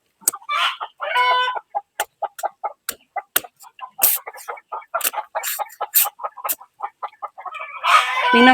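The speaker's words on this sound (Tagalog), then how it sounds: "Ano kaya nakikita ng mga manok? Ang ingay." Backyard chickens cluck loudly and excitedly close by in a fast, irregular run of sharp calls, with occasional louder squawks and a burst of flapping or rustling at the end.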